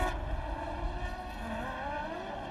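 Formula Renault 3.5 race cars on the formation lap at the Hungaroring, a steady, loud engine drone with a rising whine, continuous and fairly close.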